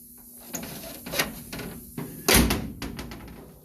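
The door of a 1937 GMC T14A truck, its once-frozen latch now freed, opens and shuts in a close series of metallic clunks and latch clicks, with one heavier thud near the end.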